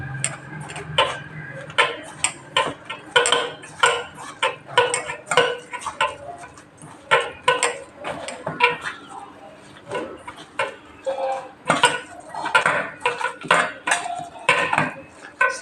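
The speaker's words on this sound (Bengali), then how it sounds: "এবার চিংড়ি মাছটা মুড়িটা আমি ভালো করে মেখে নেব।" Prawns and puffed rice being mixed into fritter batter by hand in a home kitchen: irregular wet squelches and light clinks of a bowl or utensils, repeating in uneven bursts up close.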